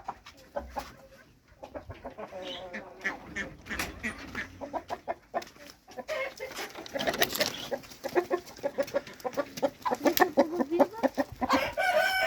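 Herati chickens clucking and calling close by, a busy, uneven run of short squawks and clucks that grows denser and louder toward the end, with a voice briefly heard among them.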